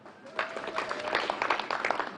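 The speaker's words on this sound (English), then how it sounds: "You can see even you are clapping more." Audience applause at a 2020 KCSE exam results announcement, a steady dense patter of many hands, moderately loud, with a voice faintly underneath.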